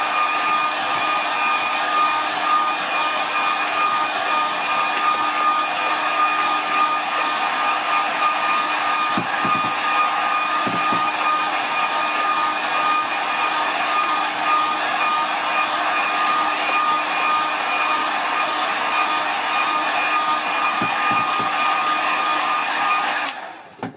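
A hair dryer blows steadily on a wet watercolour painting of a forest stream, a loud, constant whirring roar that runs unbroken for the whole stretch before cutting off at the very end.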